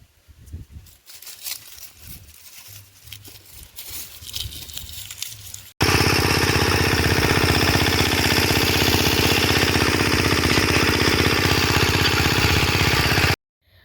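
A power tiller engine runs on a farm plot, loud and steady with a continuous mechanical rumble after a quieter stretch of ambient noise, then cuts off abruptly near the end.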